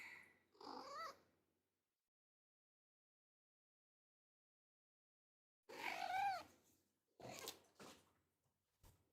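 A pet cat making meows and purring sounds in two bursts, a short one at the start and a longer cluster after a quiet gap, close to the microphone with no talking.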